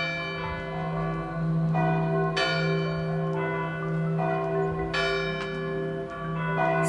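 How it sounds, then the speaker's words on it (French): Castle bells ringing with several strikes and long, overlapping resonant tones that hum and sustain throughout. "fait vibrer les vitres et résonner les cloches du château"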